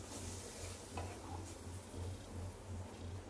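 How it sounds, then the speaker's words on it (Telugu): Fried semiya and poha being stirred into about half a litre of milk in a pan, a quiet, even swishing and bubbling with faint rhythmic scraping of the spoon. "ఇప్పుడు ఇందులోకి ఒక 1/2 లీటర్ వరకు పాలు వేసుకోవాలి। మొత్తం ఒకసారి బాగా కలిపేసుకోవాలండి।"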